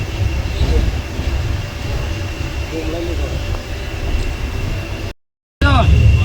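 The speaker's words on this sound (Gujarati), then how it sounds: "તો મિત્રો આપણે બેસી ગયા હવે ટ્રેનમાં" The interior of a passenger train at Viramgam railway station carries a steady, loud rumble and hum of carriage and air-conditioning noise, with voices talking faintly beneath it and a brief dropout near the end.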